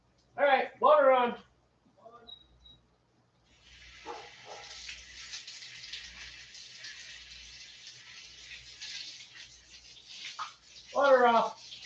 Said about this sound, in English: All right, water on.